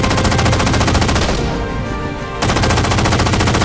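Sustained automatic gunfire from video game units opening fire, a dense rapid rattle of machine-gun bursts that drops briefly before resuming at full, close loudness.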